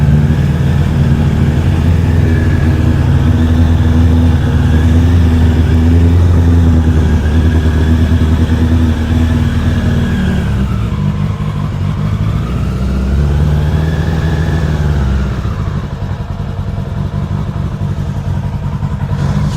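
A Suzuki Bandit 600cc motorcycle engine running close and loud, a steady rough idle with clattery mechanical texture, its pitch dipping and rising a couple of times, with no voices.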